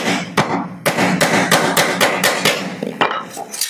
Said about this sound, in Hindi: ये जो कील निकला हुआ है इसको थोड़ा अच्छे से हम मोड़ देंगे इस टाइप से